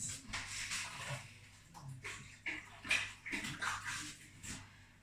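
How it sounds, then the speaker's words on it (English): Hands are washed under a running kitchen tap while making a nutty fruit crumble, a steady close splashing wash with shifting bursts as the hands move through the stream, with no talking. "Just wash my hands, 2 seconds."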